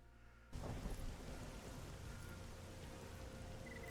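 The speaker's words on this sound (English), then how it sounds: "And the rain is not helping." Steady rain falls in the Slavic autumn setting of the video game Reka, a dense hissing downpour starting abruptly and continuing evenly at a soft, constant level.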